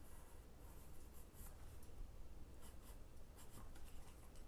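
A pencil scratches steadily across paper while a cartoon dog robot is drawn, giving a soft, close, continuous rasp with small strokes rising and falling and nothing else heard.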